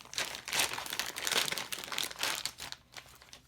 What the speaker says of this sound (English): We're going to open this tubing up.